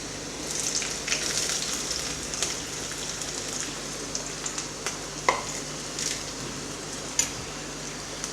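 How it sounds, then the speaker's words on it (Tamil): Garlic and ginger frying in a pan for dal tadka, a steady soft sizzle with faint crackling pops and a few sharper stirring clicks, moderately close with no voices. "பூண்டு கோல்டன் ப்ரௌன் ஆகிற வரைக்கும் கொஞ்சம் ஃப்ரை பண்ணிப்போம்."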